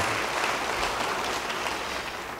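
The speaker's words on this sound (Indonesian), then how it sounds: "Beri tepuk tangan yang meriah bagi dia" Loud, dense applause from a church congregation for Jesus Christ, a continuous roar of many hands clapping that holds steady and fades only slightly near the end, with no talk over it.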